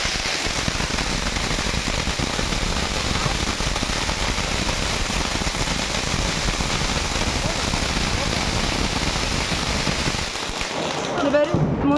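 Dense crackling bursts of firecrackers pop continuously for about ten seconds, loud and close, with a sharper cluster of bangs near the end.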